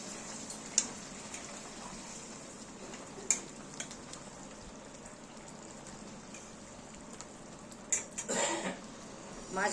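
Pomfret fish curry simmers in a pan over a gas flame, a soft continuous bubbling hiss with a few faint clinks and a louder rustle near the end.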